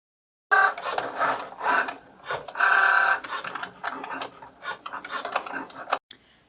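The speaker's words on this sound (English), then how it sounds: "So now my machine is done cutting" A Cricut Joy cutting machine cuts a cardstock card, producing close, irregular bursts of whirring and ticking motor movements with brief pauses between strokes.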